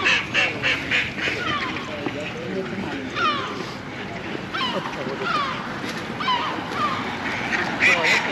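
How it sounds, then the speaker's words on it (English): Ducks quacking outdoors near a McDonald's in Santa Ponsa, Mallorca, several birds calling in short bursts nearby, with someone talking over them and steady ambient noise. "There's more ducks here."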